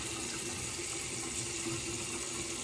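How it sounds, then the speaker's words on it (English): A Dovo straight razor is rinsed under a running tap, a steady close hiss of flowing water into a sink with no voices over it. "quick rinse."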